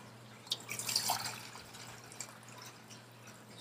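Water poured into a bottle during winter car-survival prep with a Sterno cooking stove, a brief splashing trickle that rises and then fades, faint and close with no voices.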